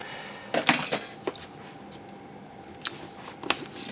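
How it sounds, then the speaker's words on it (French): Scissors cutting open the packaging of an R.A.T 7 Cyborg mouse, heard as a few sharp close snips and crunches in two short clusters with quiet gaps between them. "je vais l'ouvrir au ciseau"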